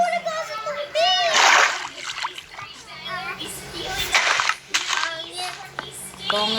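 A Minecraft character falls into water, giving a bright watery splash amid game sounds while someone talks excitedly over it in Filipino, the splash close and loud near the start.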